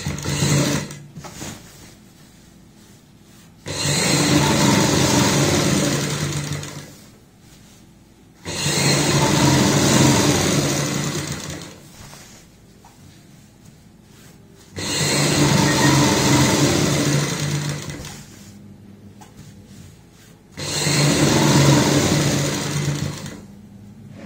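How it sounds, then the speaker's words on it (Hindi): A sewing machine stitches a handmade travel bag in four long, steady runs of fast mechanical whirring, each lasting several seconds and separated by quiet pauses, close and clear with no talking. "ऊपर से सिलाई लगाएंगे।"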